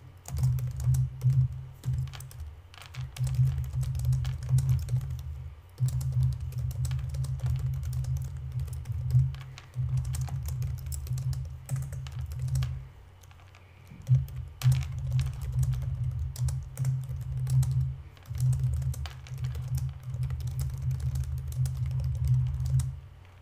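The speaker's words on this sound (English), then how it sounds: "Essentially, you're just going to type in some information." Steady typing on a computer keyboard while composing a post: rapid, close key clatter in continuous bursts with brief pauses, no voices.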